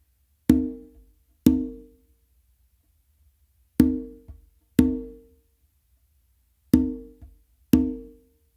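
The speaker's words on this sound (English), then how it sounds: "I'm going to do a ghost note or a little fingertip tap with my non-dominant hand" Conga open tones from a funk a caballo fusion pattern, paired ringing strikes with a quiet fingertip ghost note tucked after each pair, repeated three times with gaps, close and alone.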